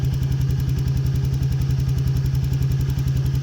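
A Yamaha Nmax v2 scooter with an error 37 fault idling at low RPM, its engine thrumming in a close, loud, steady pulsing rhythm throughout.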